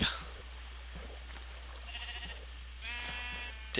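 Sheep in the Minecraft video game give a couple of nasal bleats, close and moderately loud, against a low steady hum.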